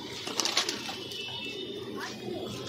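Domestic pigeons in a fancier's loft in India coo nearby, with soft throaty calls and a brief flutter over a steady background hum.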